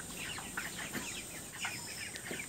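Poultry chickens clucking at a market stall, a scatter of short, fairly faint calls over steady background hum, with no talk.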